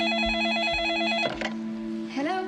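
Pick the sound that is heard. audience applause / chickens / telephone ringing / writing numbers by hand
telephone ringing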